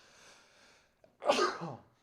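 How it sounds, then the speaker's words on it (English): A single sudden, forceful sneeze close to the microphone, preceded by a brief quiet inhale and trailing off into a breathy tail. "Most violent sneeze on stream ever."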